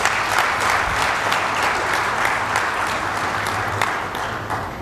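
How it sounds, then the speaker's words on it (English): Steady, loud applause from a large audience at a conference of African ministers, many hands clapping in a dense continuous roll that slightly fades toward the end. "can we give James another round of applause"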